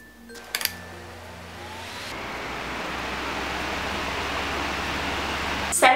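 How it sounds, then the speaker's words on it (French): A steady, coarse electric fan whir builds up and keeps running with a rough, motor-like drone, after a few brief clicks at the start. "Ça m'énerve quand je pars mon ventilateur puis qu'il fait un bruit de tondeuse à gazon."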